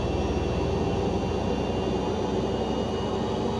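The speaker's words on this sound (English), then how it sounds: "for these turboprops, I can just advance my mixture just that little much and get that start" A simulated turboprop engine spools up during startup in Microsoft Flight Simulator, a dense, constant roar with a high whine that holds loud and steady from start to finish without speech.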